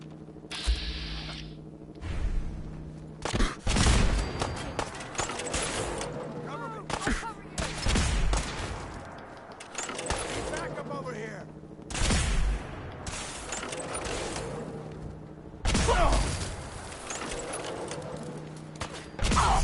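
Gunfire in the video game Fallout 4, with loud sharp bursts of shots at irregular intervals over a busy mechanical game background and scattered talk.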